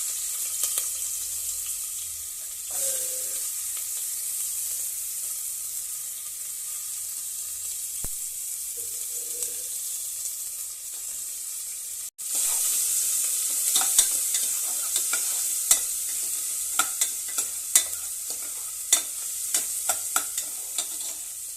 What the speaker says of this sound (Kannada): ಇವಾಗ ಎಣ್ಣೆ ಹಾಕ್ತಿದ್ದೀನಿ. 2-3 ಸ್ಪೂನ್ ಎಣ್ಣೆ ಹಾಕ್ರಿ. ಈರುಳ್ಳಿ ಹಾಕ್ತಿದ್ದೀನಿ ರೀ.